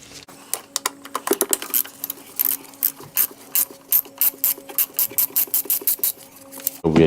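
A ratchet driving a T25 Torx bit clicks in quick bursts while removing trim screws on a BMW 5 or 3 Series, the crisp pawl ticks coming in irregular runs close to the mic with no talk.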